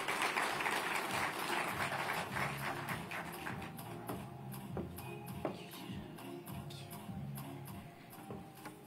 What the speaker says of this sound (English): Let's give her a big clap.